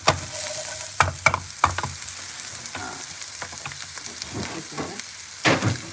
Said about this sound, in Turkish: Zeytinyağını da böyle biraz kavuruyoruz